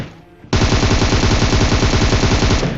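Sustained automatic gunfire from an AKM in a battle royale video game bursts in suddenly after a quiet moment, a rapid, dense, loud stream of shots continuing without a break.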